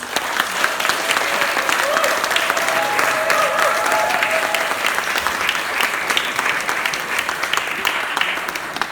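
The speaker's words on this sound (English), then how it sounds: "let's give a big round of applause to Hidayah Amin" A book launch crowd gives loud, sustained applause for an author, a dense, steady rush of clapping with faint voices mixed in underneath.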